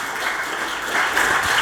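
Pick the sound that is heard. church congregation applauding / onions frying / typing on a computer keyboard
church congregation applauding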